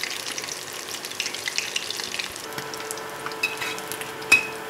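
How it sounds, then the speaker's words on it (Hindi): Small fish pakoras frying in hot oil, a steady soft sizzle with faint crackles and a brief clatter near the end, close and fairly quiet, with no talking. "और इसे अच्छे से फ्राई कर लेते हैं दोनों साइड से।"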